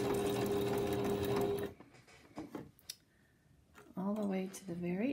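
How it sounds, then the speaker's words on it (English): A sewing machine runs steadily while stitching the loop strip for a fabric potholder, a loud continuous mechanical whir that stops abruptly, followed by quiet handling sounds and someone talking. "Now we're sewing the loop"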